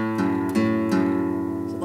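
Four notes from a riff sound on guitar, one after another in quick, sustained succession, close and clear with nothing else present.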